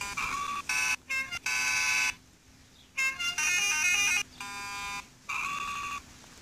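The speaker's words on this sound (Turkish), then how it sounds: "Kornamız da var arkadaşlar." A truck horn in a truck-driving video game blares in several loud bursts of varying length, each separated by a short gap. There is no talking.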